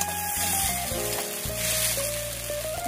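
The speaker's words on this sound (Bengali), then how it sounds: "এই দেখো, চাউমিনটা আমার ভাজা হয়ে গেছে।" Chowmein noodles frying in oil in a pan for restaurant-style gravy chowmein, a steady close sizzle running throughout with faint stirring or tonal kitchen sounds underneath.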